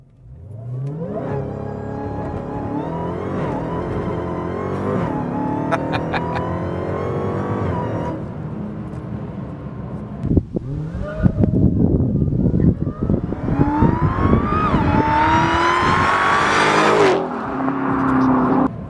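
A Dodge Charger SRT Hellcat launches hard with its tires spinning, the engine roaring close and loud and rising in pitch as it accelerates, while people talk in the cabin.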